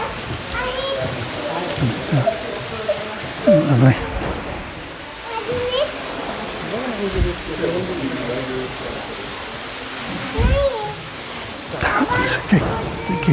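Garden water feature flowing in a warm glasshouse at Jephson Gardens, Leamington Spa, a steady splashing wash running throughout under close conversation.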